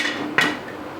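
One sharp metallic clink of a lid set onto a casserole pot of chicken steaming in salt, close and brief, with a faint ringing tail over quiet room noise.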